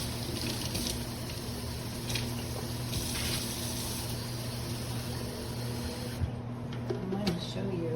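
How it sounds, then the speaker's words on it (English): Water runs from a tap into a small portable blender cup being rinsed, a steady faint splashing hiss with a low hum beneath, continuing throughout. "I'm just going to put a little water in this to rinse it out."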